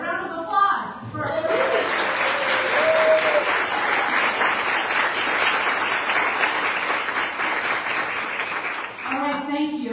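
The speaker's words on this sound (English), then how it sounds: "a round of applause for" A crowd applauds at a 2025 Pay Equity Signing Day event. The full, sustained clapping lasts about eight seconds, with brief chuckles and a voice at the start and a speaker returning as it fades.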